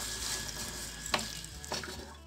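Boiled, soaked chickpeas, cooked soft for chana aloo, are stirred lightly in a pan, with a soft continuous sizzle broken by a couple of sharp scrapes and knocks of the spoon, close and fairly quiet.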